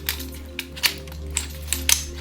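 A tactical night vision device mount latching onto its fitting gives a series of small, sharp clicks, close and distinct, spread over about two seconds above a steady low hum.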